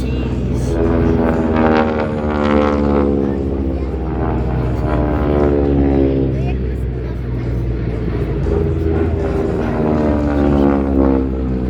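North American T-6 Texan warbird propeller planes at an airshow produce a loud, steady droning engine roar with a shifting pitch that fills the whole clip, while a voice speaks over the public address.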